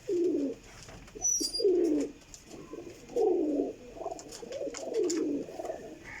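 Pigeons coo nearby in repeated soft, throaty rolling phrases, about five bursts spaced a second or so apart, over faint background hiss and a brief chirp.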